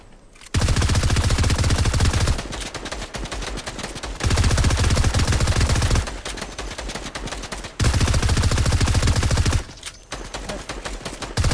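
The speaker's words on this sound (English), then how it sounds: "Keep shooting." Automatic gunfire in the video game Fortnite comes in loud sustained bursts of rapid shots, separated by short pauses, close and dominant throughout.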